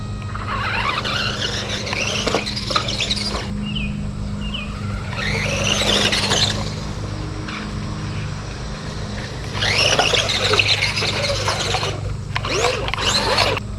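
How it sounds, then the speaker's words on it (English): A fast RC car races down a straightaway with a high, whining motor and squealing tires, its buzz swelling and fading in several passes as it approaches and recedes over a steady low hum. "have this RC car hitting a straightaway at it"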